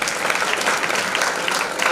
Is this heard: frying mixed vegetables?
no